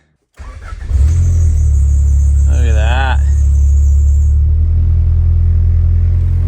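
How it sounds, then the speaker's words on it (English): Turbocharged Honda Civic engine cranks and fires up, settling into a loud, steady low idle with a brief squealing whine early on; a voice speaks briefly over it. "But I already started it and I revved it."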